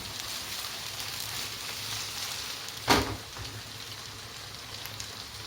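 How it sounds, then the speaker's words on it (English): Onions dropped into hot oil for Sicilian caponata, a steady close sizzle throughout with one brief louder crackle burst partway through, no talk. "Oil is good enough for the onions. Onions go in. Beautiful sound."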